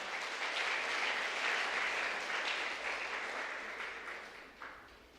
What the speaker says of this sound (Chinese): 我们拍手来欢迎他